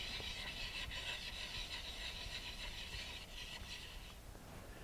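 A bedan woodturning tool is honed on a DMT diamond stone with continuous, close, gritty rubbing strokes that stay even throughout.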